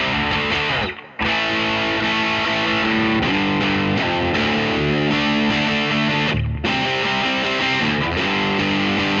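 Distorted electric guitar chords played through a modified Ibanez Sonic Distortion pedal, loud and sustained with thick saturated harmonics, two brief gaps where the chords are cut and restarted.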